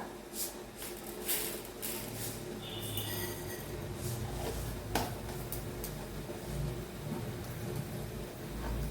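Mustard seeds spluttering and popping in hot coconut oil for an egg curry, a dense crackling hiss with scattered sharp pops, steady and close throughout.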